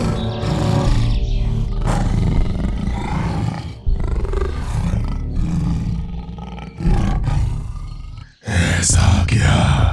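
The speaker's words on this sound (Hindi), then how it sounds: "ठीक तभी गरजते हुए गुफा के अंदर से निकल आई एक बाघ।" A tiger roars as it comes out of a cave, deep rumbling roars and growls in several long loud bursts, close and dominant, with short breaks between them.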